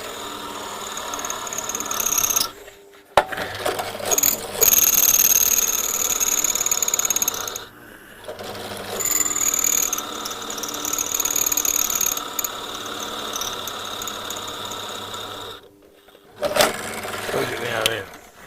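A power drill bores into hard, strong metal on a Marcos GT coupe with a 3 litre V6. It whines and grinds up close in several long bursts, stopping briefly between attempts.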